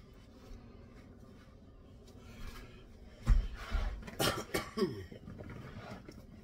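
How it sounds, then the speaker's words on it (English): A person coughs a few times in a short, rough burst midway, close to the microphone, amid quiet rubbing and shuffling sounds. "I got the coughs today."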